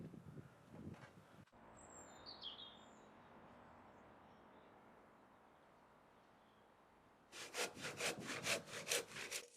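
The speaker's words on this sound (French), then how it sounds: "utiliser la scie à main pour enlever le milieu" A hand saw removes the middle section of a cut in wood while building a cat enclosure, two bursts of quick rhythmic strokes, one at the start and a louder one at the end, with faint birds chirping outdoors in the quiet gap between.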